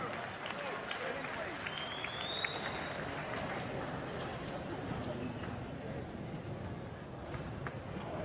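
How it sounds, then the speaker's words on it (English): Crowd applause and cheering for the boxers after a fight decision, a dense, steady wash of clapping and crowd noise filling the arena throughout. "let's have a round of applause, first of all, for our boxers"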